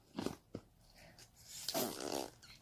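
Large batch of slime being squeezed and pressed, letting out several close, wet, fart-like squelches and bubbly pops in irregular bursts.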